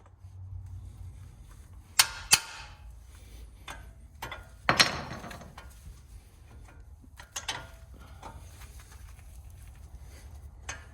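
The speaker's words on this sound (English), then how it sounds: "Now we're gonna get our nut off here." A nut comes off a Mercedes ML320 tie rod end: sparse metallic clicks and ratcheting taps, with a few sharper clanks around two and five seconds, quiet and close.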